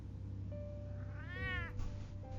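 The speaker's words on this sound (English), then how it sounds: "Kitty cat." A cat in Telltale's Batman game gives a single drawn-out meow, rising then falling, clear and close over a steady low background hum with no talking.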